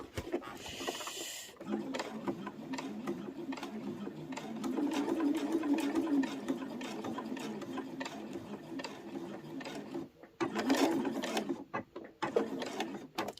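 A sewing machine stitches fabric around the edge of a tidy tray made from layer cake squares, running in steady bursts with short pauses, close and fairly loud, with handling noise between runs.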